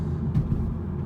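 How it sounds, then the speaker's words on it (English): Low, heavy exhaust rumble from a 2016 BMW M235i coupe under acceleration, a brief, close, steady throb with no talking. "the exhaust just sounds so good when you hit it"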